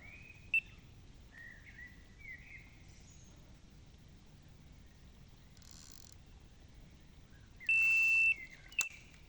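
An electronic carp-fishing bite alarm sounds outdoors in winter, giving a few short beeps followed by a longer sustained tone, all over a quiet, low background rumble with no talking.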